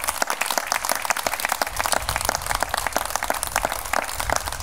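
A crowd at a political rally for regional candidates claps steadily and densely, a sustained round of applause heard close by with no talk over it.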